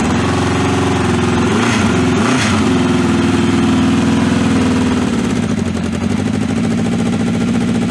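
A lawn mower engine idling steadily after a cold start, a loud, close, even putter with a slight waver in pitch partway through.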